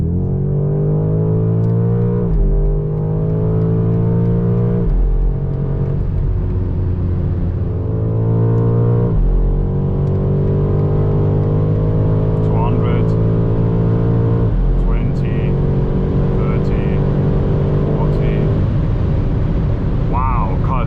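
A 2025 BMW M5 with a 727 hp V8 accelerating hard on the German Autobahn, a loud, deep engine roar climbing through repeated gear changes, each shift marked by a brief dip before the pitch rises again.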